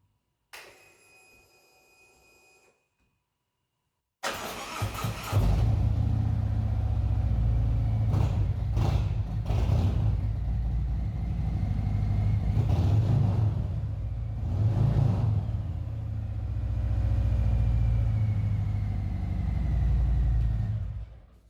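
A Harley-Davidson Road Glide motorcycle engine starts after a short quiet stretch, then settles into a loud, close, steady idle rumble with a few swelling revs.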